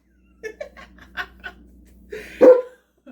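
A senior dog gives a few short, close vocal yips and barks in a quiet room, ending with one louder, fuller bark.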